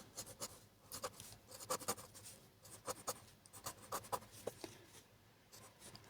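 Pen scratching across paper during a math lesson, a steady series of quick strokes and taps, close and fairly quiet, with no talking over it.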